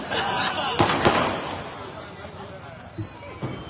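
Several sharp firecracker bangs pop at irregular intervals at a political rally speech, two close together and then two more later, over a busy background of crowd voices.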